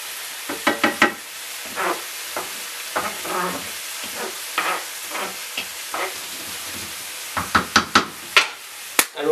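Beans and onions stirred in a hot pan, with scraping utensil strokes in irregular bursts over a steady low sizzle, close and fairly loud, a sharper cluster of scrapes near the end.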